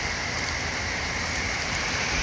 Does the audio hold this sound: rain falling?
yes